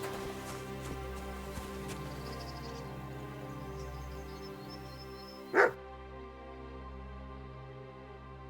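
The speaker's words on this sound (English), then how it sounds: "Barking." A single sharp dog bark rings out in the medieval video game Kingdom Come: Deliverance II, short and fairly distant over a steady ambient game soundscape with soft background tones.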